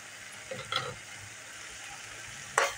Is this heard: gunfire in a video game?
no